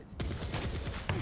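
A nail gun fires in Quake in a rapid, rattling stream of sharp shots, close and steady for about a second, with a brief pause near the end before firing resumes.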